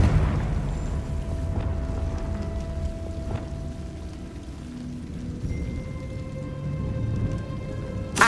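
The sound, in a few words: Confringo spell effect in Hogwarts Legacy video game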